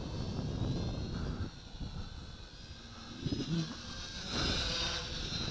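A JJRC H13C camera drone flies fast through windy air, its whining rotor drone steady and mid-distance, rising and dipping slightly in pitch with gusty wind noise underneath.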